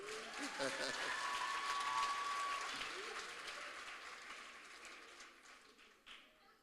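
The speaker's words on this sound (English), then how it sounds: "Can we give the leader of the Faculty of Best Advisory a proper round of applause?" An audience at a heritage education colloquium gives a round of applause for a faculty leader. The clapping is fairly distant and begins full, then tapers off gradually, with some voices mixed in underneath.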